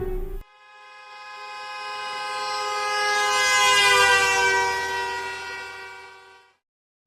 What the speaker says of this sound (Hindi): एक कार हॉर्न बजाते हुए तेजी से आपके सामने से निकल जाती है